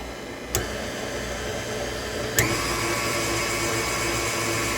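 An electric hand mixer whirs steadily and loudly, mixing sugar-free pudding in a bowl, with two sharp clicks as the speed changes and the motor pitch rises slightly.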